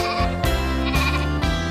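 A sheep bleats repeatedly, with several loud, close, wavering calls in quick succession and no talking.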